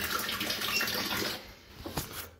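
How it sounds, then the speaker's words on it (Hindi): Water pours into a shaker bottle at night, a close, fairly quiet gushing splash that thins out and stops about halfway, followed by a few small knocks and drips. "अपने शेकर में पानी भी भर लिया हमने"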